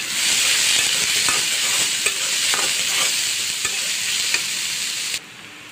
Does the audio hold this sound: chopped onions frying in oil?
yes